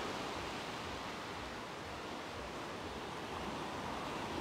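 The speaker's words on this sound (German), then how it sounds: "Hier sieht man nochmal die schönen Wellen." Gentle, fairly flat sea waves washing in steadily at a beach promenade in Side, Turkey, in the evening, a continuous soft broadband rush with no distinct breaks, no voices.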